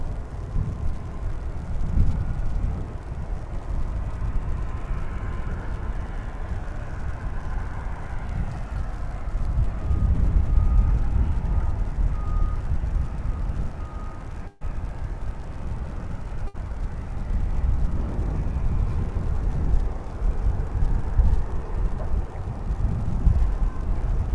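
An American Airlines jet arriving from Honolulu at Dallas-Fort Worth Airport on a chilly January morning, its steady low engine roar heard from a distance, swelling and then easing, with wind buffeting the microphone.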